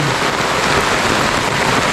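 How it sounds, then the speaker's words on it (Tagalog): Steady, heavy rain pours down, a dense hiss of drops hitting surfaces nearby, constant and loud with no voices. "Kung magtatagal po yung ulan, madilim"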